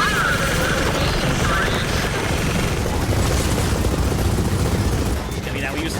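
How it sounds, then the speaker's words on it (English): An attack helicopter in Gears of War 4, a constant loud rotor roar thick with gunfire and explosions, filling the whole stretch at near range. "Close range attack helicopters. Take out his engines!"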